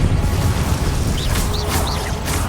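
Hogwarts Legacy spell effects crackle and whoosh in quick succession, bright swooping magical tones rising over a loud, rumbling, crashing combat background with explosive bursts.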